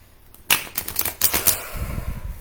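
Tarot cards being shuffled by hand: a quick series of crisp riffling snaps and slaps, close and fairly loud, followed by softer rustling, with no talking.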